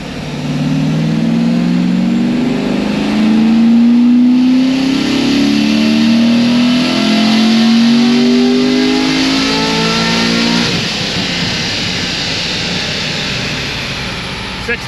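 Corvette Z06 engine on a chassis dyno, revving up in one long pull with a steadily rising tone, then dropping off sharply near the end; loud and close, with room noise behind it.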